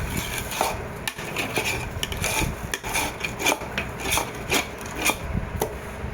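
A spoon stirs sesame seeds coated in jaggery syrup in a pan for sesame laddu, giving a steady, rhythmic scraping and rasping close by with repeated strokes and no talk.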